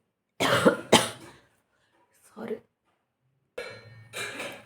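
Several harsh coughs come in short bursts, close to the listener, with a brief gap between fits.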